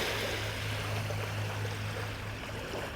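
Seawater and waves wash steadily over colourful stones at the seashore, making a continuous close rushing and trickling wash with no talking.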